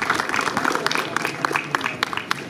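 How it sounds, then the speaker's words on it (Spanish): Applause for school staff at a colegio anniversary celebration, scattered individual claps from a modest crowd, moderately loud with sharp uneven hits, with some voices mixed in. "Un aplauso para todos ustedes."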